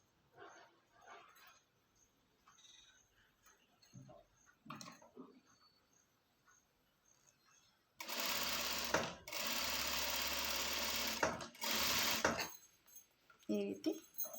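A sewing machine runs close and loud in two long bursts, stitching pant fabric, after a stretch of quiet talk and handling noises.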